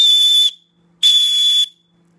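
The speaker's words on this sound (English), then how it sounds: "It's got a whistle on it." Two loud, shrill blasts from a small whistle on a paracord wrist bracelet, each about half a second long, separated by a short silence.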